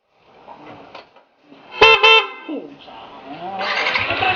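A quiet rustle, then two short loud honks from a newly installed PIA horn on a Yamaha Sniper 155 motorcycle, followed by a revving engine and faint voices.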